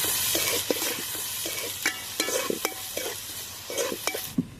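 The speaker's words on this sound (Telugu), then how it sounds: "ఇప్పుడు వీటిని బాగా వేగనివ్వాలి." Chopped onions and slit green chilies with rock salt fry steadily in a pan for an Andhra country-chicken curry, a continuous close sizzle broken by repeated sharp clicks and scrapes of stirring.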